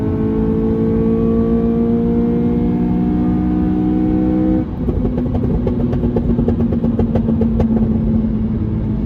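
Inside a moving Honda Civic FN2, the engine drones under load with rising pitch, then dips briefly for a gear change and pulls again at a lower note, loud and continuous without talk.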